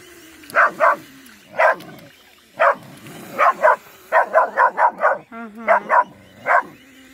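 A dog gives a run of short, sharp barks and yips in uneven bursts, fairly close, with a voice speaking softly underneath.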